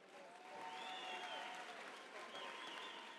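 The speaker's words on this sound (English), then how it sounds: "a round of applause for both boxers" Boxing-match crowd applauding both fighters after the bout, a faint, distant wash of clapping and cheers in a large hall, with a few whistles and raised voices over the top.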